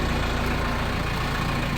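Van engine idling while warming up before a road trip, a steady low rumbling drone that stays even and close throughout.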